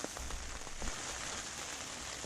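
Rain falls steadily on surfaces, a soft continuous hiss with scattered drops pattering up close and no voices.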